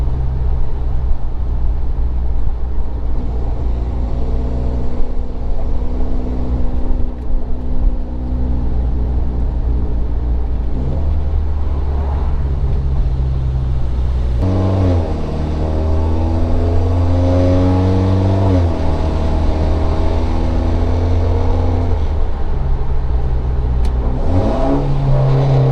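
A Mitsubishi Evo X MR running flex fuel with a Tephra V3 tune revs hard from inside the car, engine climbing through the gears with audible pitch drops at each shift, loud and sustained throughout.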